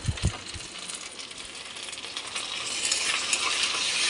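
Ginger-garlic paste hits hot oil in a pan with a few sharp clinks at the start. A steady sizzle follows, growing slightly louder and brighter toward the end, with no talking.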